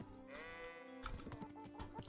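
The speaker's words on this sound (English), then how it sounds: "I love that sheep bell sound" In the video game Kingdom Come: Deliverance, a sheep bleats in a long wavering cry, then small sheep bells jangle in quick irregular clinks, soft and close, with no other sounds.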